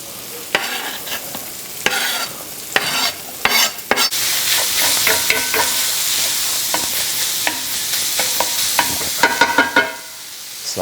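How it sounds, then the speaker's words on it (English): Sausage, onions and mushrooms fry in a pan with a steady, close sizzle, broken by repeated scraping and stirring strokes. Nobody speaks. "Now while the sausage is browning and the onions and mushrooms are just kind of"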